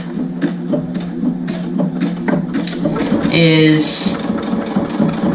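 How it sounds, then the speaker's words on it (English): Variable-speed sewing machine stitching a quilt, a close mechanical whir with rhythmic ticking that stays under continuous talking. "you can slow the machine down so that no matter as you press on the presser foot, it's not gonna sew really fast"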